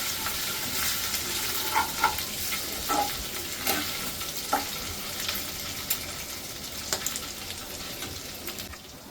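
Ginger and garlic sizzle steadily in a hot pan, with occasional scrapes and clicks of stirring over the constant frying hiss.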